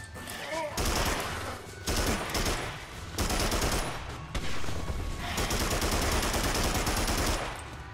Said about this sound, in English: fire a rocket launcher.